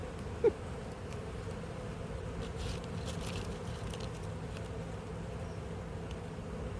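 Honey bees buzz at an apiary where sugar syrup is being fed, a faint, steady drone with no talking and one brief click near the start.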